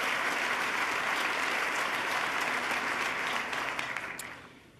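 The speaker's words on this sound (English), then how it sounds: "let's give him another round of applause" A dense, loud round of applause from a large audience honoring Governor David Paterson at a State of the State address, sustained for several seconds before tapering off at the end.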